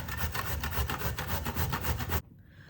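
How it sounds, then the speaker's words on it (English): Courgettes being grated by hand, a steady run of rhythmic rasping strokes close up that stop abruptly near the end. "we're going to start by just grating the courgettes up."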